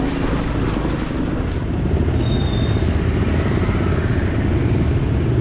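A motorcycle runs on an island road, its engine a constant loud, rough drone with dense low rumble and no pause, close to the microphone and without any voices.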